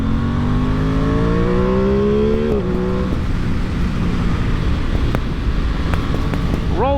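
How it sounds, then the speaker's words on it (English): A 2022 Aprilia Tuono 660 Factory motorcycle engine while riding through twisty roads, revving up through the gears with rising tones, a brief drop at a shift, then a steady roar under wind noise and a voice talking. "Rolling through some twisties here on the Aprilia"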